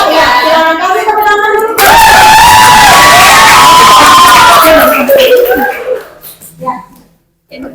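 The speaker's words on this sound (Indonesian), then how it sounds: "Silakan kami tepuk tangan dulu." A classroom of children breaks into clapping with excited cheers and shouts after a group presentation on cube volume, loud and busy for several seconds before fading out.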